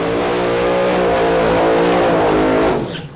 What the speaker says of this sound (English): Rob Turner, the man from Higham Ferries, just a couple of miles away from the track, really puts down a good burnout